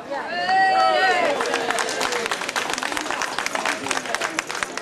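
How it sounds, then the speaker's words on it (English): A crowd applauding at a People's March for the NHS in Wakefield, scattered clapping and cheering rising after a voice, continuing as a loose, fairly distant patter with background chatter. "That's definitely worthy of applause"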